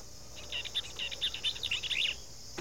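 A young red-headed woodpecker gives a rapid series of thin, high chirping calls, fairly faint and outdoors, lasting about two seconds with no voices.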